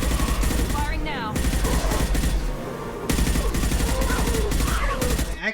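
Rapid bursts of weapon fire from the Mass Effect 2 video game, Legendary Edition, crackle in dense repeated volleys with a brief lull midway, loud and close, mixed with game effects.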